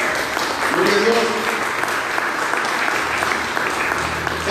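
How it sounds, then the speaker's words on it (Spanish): A church congregation gives a strong, continuous round of applause at a Bible study, the dense clapping filling the whole stretch while a voice briefly rises over it early on. "Den un fuerte aplauso al Señor."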